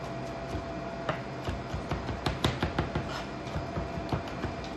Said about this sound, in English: We need to chop up 2 cloves of garlic real quick for our sauce